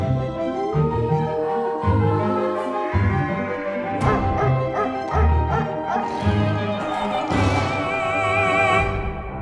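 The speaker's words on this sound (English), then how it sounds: "Today, we're examining canines and why some dogs seem to sing, perhaps better than some humans." A dog sings in long, wavering howls and yips, rising and falling in pitch over several phrases, close and loud with a voice-like tone throughout.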